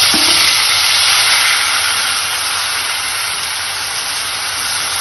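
Grated tomato hitting hot oil with ginger and spices in a pan, a loud dense frying hiss right after it goes in, sizzling steadily close up with no voices.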